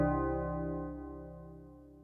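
Tubular bells synth preset in the Yamaha DX9's own version, a single bell-like strike with a sustained harmonic tone that slowly decays, played alone.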